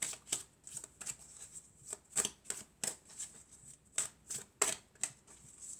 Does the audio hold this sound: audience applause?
no